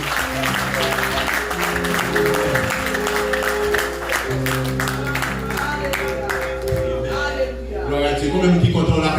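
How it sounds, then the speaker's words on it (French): A church congregation claps together amid loud worship music and singing voices in French, the applause blending into a lively, sustained wall of sound. "On applaudit mon Dieu maintenant"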